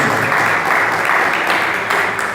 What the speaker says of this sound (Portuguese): As palmas louvam a Deus.